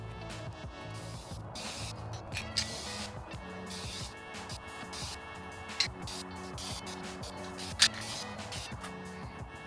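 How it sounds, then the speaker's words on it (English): Spray paint hissing in steady bursts as a restored jon boat is painted black through a stencil, close and continuous with short pauses between passes and a few sharp clicks from the can. "I'm gonna start painting it black and see how it looks"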